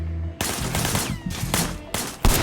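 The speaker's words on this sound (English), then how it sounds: "I want you to put some bullets in a few things." Sleeping Dogs gunshots, loud bursts of rapid fire broken by short gaps, with a heavy final crack at the close, near and unaccompanied by talk.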